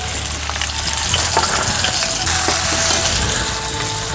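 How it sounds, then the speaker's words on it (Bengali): Chopped onion hitting oil in a hot wok (kadai) at the start of a bitter gourd curry, giving a continuous close, loud sizzle and crackle with faint stirring scrapes and no speech. "কড়াই গরম হয়ে গেছে, পেঁয়াজটা দিয়ে দিব।"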